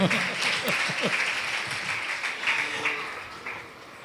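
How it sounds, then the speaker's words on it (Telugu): A church congregation applauds to welcome the pastor at a Sunday morning service, giving steady, dense clapping that fills the room and fades slightly toward the end. "మరి అయ్యగారికి చప్పట్లు కొట్టి ఆహ్వానించుదాం"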